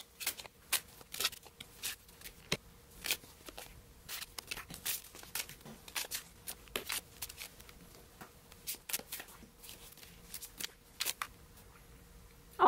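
Sped-up card shuffling: rapid, irregular bursts of crisp card clicks and riffles, close and fairly quiet, repeating throughout with no talking.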